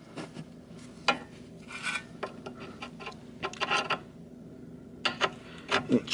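A mounting bolt is worked through the front strut mount of a 2007 Mini Cooper S, producing scattered close metallic clicks, taps and scrapes in irregular bursts with quiet gaps between.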